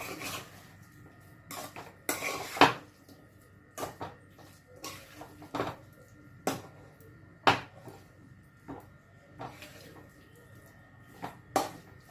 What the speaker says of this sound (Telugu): కారం వేసినాక బాగా కలుపుదాము